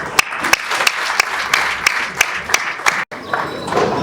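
A congregation applauds at a priest's first Mass, with sustained clapping from a crowd and sharp individual claps standing out, a brief gap near the end, then clapping resumes.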